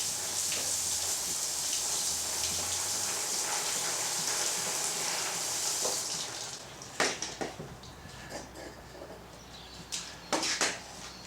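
Water sprays steadily over a Suzuki DR650 motorcycle during a wash. The hiss is constant at first, then gives way to scattered splashes and drips.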